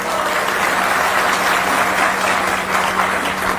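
Dense, continuous audience applause at a BSP political rally in Chhattisgarh, loud and sustained throughout with no speech over it.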